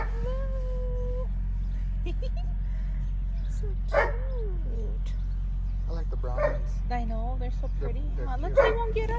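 Doberman Pinscher puppies on a farm give scattered high yips, whimpers and short barks, near and fairly soft, over a steady low hum while people talk nearby.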